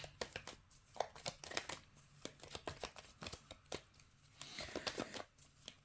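Tarot cards shuffled by hand, a fast run of crisp papery riffles and slaps coming in irregular bursts, close and fairly quiet, with no voice.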